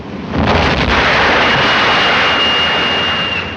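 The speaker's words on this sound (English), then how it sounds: "Unless the engines blow up." A ship's engines blowing up during a storm at sea, a loud sustained roaring blast with a dense rumbling body that swells in quickly and holds steady for several seconds, close and overwhelming with no voices.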